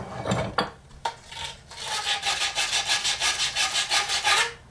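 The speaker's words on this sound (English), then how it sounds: "take some heavy grit sandpaper and kind of just rough up the edges a little bit" Heavy-grit sandpaper roughing up a copper pipe fitting before soldering: a few knocks and handling sounds, then a fast, even series of close abrasive rubbing strokes.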